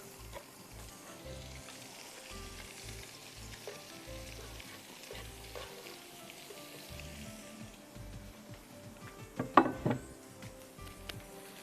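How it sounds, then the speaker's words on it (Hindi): Onion, garlic, dill, spinach, salt and black pepper fry in butter with a soft, continuous sizzle and occasional stirring, then a brief louder clatter of utensils near the end. "मक्खन में हमने प्याज, लहसुन, नमक, काली मिर्चें, सोया की भाजी और पालक डाली"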